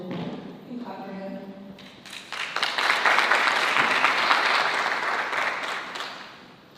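An audience at a pitch challenge summit breaks into applause, beginning with scattered claps and a voice over it, then swelling into steady, full clapping that holds before tapering slightly at the end.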